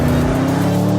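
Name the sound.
Porsche Panamera Turbo S driving and braking on racetrack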